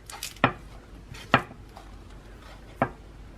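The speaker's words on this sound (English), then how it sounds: "Just cut it up." Knife chopping celery for a salad on a cutting board, three sharp, faint chops spaced apart with soft rustle between, no speech.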